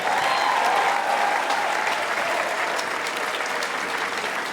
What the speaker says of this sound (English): Should we give a round of applause for those amazing name readers?